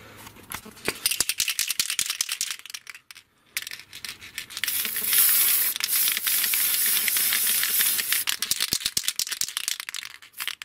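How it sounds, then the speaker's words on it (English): Pearl spray paint hissing from an aerosol can onto a clear Lexan RC car body, with rattling can shakes before and after a long, loud, steady spray burst close by. "So I'll spray that up quickly, dry it, then we'll come back"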